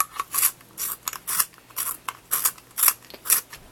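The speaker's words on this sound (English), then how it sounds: "See, I'll show you guys sharpening my pencil." A pencil being sharpened with a blade makes a series of rapid, close scraping shaves in uneven bursts, crisp and dry, with no talking.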